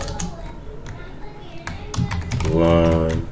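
Typing on a computer keyboard during a Ruby programming session, a scatter of crisp key taps close by, with a voice speaking over the latter part.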